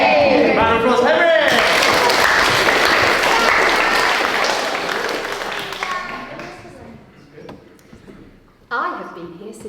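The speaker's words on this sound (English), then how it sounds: "Round of applause, Henry!" A school leavers service audience applauds Henry with loud, dense clapping that tapers off over several seconds, after which a voice starts talking near the end.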